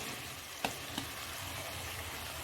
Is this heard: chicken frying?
yes